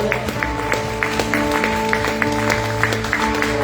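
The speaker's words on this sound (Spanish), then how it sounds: "dale un fuerte aplauso al Rey" Congregation clapping steadily together during a church worship service, a dense continuous patter of hands over sustained music, with sharper individual claps standing out at irregular moments.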